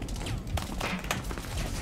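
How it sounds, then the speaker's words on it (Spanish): A burst of gunfire in Rainbow Six Siege, several sharp shots fired into a ceiling cracking over a steady noisy background. "¿Veis los disparos en el techo?"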